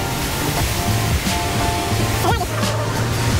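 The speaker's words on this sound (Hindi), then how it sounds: "what a beautiful waterfall" A waterfall on Iceland's south coast pours with a steady, broad roaring rush, heard close and loud, with faint voices and movement mixed in.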